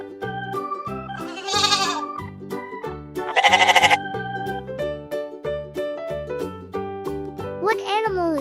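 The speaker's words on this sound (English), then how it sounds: "Yes, a goat says ma, ma." A goat bleats in short wavering cries, roughly three separate calls spread over a plinking children's-music backing track.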